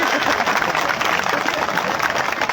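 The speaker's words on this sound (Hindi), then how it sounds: "जोरदार ताली से स्वागत करो।" Dense, loud applause from a crowd at a village gathering in Chhattisgarh welcomes guests, a continuous wash of clapping with no pause.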